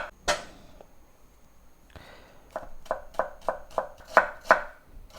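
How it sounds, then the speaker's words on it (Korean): Carrots being sliced thinly with a knife for perilla leaf kimchi: a few scattered cuts, then a quick, even run of sharp chops on a cutting board, close and clear with no talk. "당근은 약간 좀 딱딱한 식감이 있으니까 되도록이면 얇게 썰어주세요"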